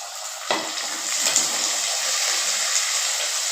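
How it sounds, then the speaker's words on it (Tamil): Chopped shallots sauté in hot oil for an egg kuzhambu, a bright, steady hiss that starts abruptly as they hit the pan and continues evenly, close and fairly loud, with no talking. "சின்ன வெங்காயம் கொஞ்சம் அரிஞ்சு வச்சுருக்குறேன் நல்லா வதங்கட்டும்"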